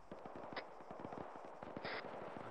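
Distant gunfire in a military video game, faint rapid bursts of automatic shots crackling in a rolling rhythm far off, low in volume with no voices.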